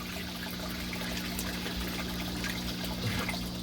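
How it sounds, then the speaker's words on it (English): Water drains from the bottom of an aquaponics tub in a steady close trickle and gurgle, with a low pump hum running beneath and no speech. "And it's draining that whole bottom part of the tub."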